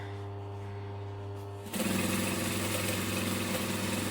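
A sewing machine topstitching through fabric and lining layers whirs into steady running after a quiet, idling hum, with a close, even mechanical buzz and rapid stitching rhythm.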